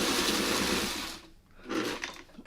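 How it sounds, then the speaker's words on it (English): A sewing machine stitches through fabric in a loud, steady whir that stops midway, then starts again in a shorter burst. "Okay, now back to sewing."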